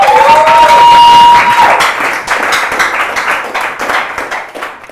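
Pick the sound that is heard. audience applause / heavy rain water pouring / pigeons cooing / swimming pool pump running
audience applause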